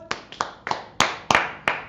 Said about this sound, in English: Let's first clap it up for the Lord.